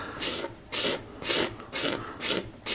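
A woodcarver's scraper, fresh off the grinding wheel, shaves a wooden surface in six rhythmic rasping strokes, close and loud, each about a third of a second with brief pauses between.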